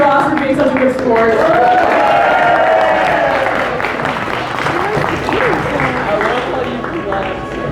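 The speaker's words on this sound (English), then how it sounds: "round of applause for Josh for being such a good sport." Loud sustained applause from a cosplay convention audience, steady clapping with scattered cheers and crowd chatter, gradually easing toward the end.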